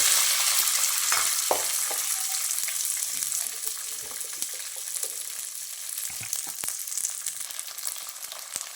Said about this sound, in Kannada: ಈ ಕಡೆ ಎಣ್ಣೆ ಹಾಕಿದ್ನಲ್ವಾ ಅದಕ್ಕೆ ಫಸ್ಟು ಹಸಿ ಬಟಾಣಿನ ಹಾಕ್ಕೊಳ್ತೀನಿ